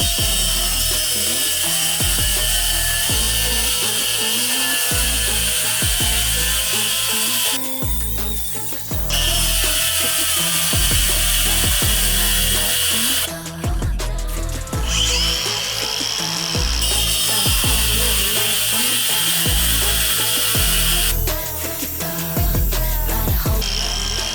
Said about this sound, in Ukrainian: давайте спробуємо, як буде болгарка справлятися з алмазним тиском і різати звичайний бордюр